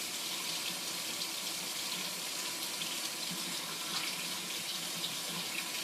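Hot water running steadily from a kitchen tap, a continuous close splashing rush that holds at an even level with no talking.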